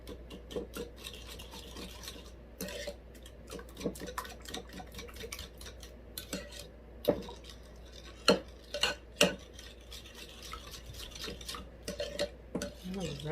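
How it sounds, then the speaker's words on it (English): Wet ingredients for a buttermilk gingerbread batter, buttermilk, eggs and vanilla, being whisked in a bowl, giving a steady scraping, rubbing stir with occasional sharper clinks of utensil against the bowl, fairly close and moderately quiet, with no talking. "So now we're going to mix this wet ingredients together."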